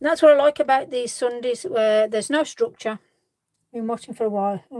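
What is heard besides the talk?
No everyday noises stand out.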